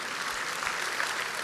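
A crowd claps steadily, a brief burst of dense applause heard at a moderate distance.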